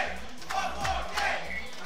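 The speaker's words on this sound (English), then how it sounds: "East Coast crowd is hype." Crowd cheering and yelling at a Street Fighter 5 tournament grand final, a dense roar of excited voices with rising shouts in two surges.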